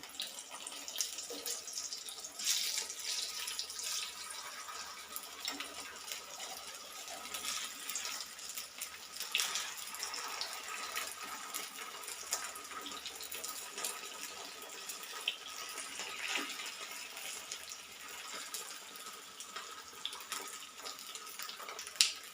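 A homemade tea-time snack fries in a very small amount of oil, giving a steady, close hiss of sizzling with scattered crackles and pops that carries on evenly throughout, with no voices.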